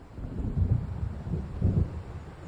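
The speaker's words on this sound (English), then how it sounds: "It seems there's a storm coming." Low rumbling thunder from an approaching storm in the video game Alan Wake Remastered, two soft swells of distant rolling rumble over steady wind and sea noise, with no voices.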